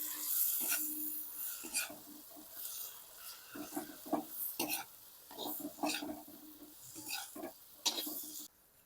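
A spoon stirs turmeric and red chilli powder in a pan, giving repeated close scraping and sizzling strokes in an irregular rhythm, moderately quiet.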